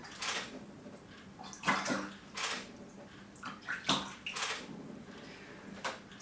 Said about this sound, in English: you splash around in the water